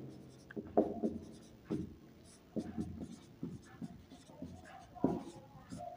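Pen scratching on paper during a class 6 maths lesson, short strokes and taps in an irregular rhythm, close and quiet, with someone speaking softly at times.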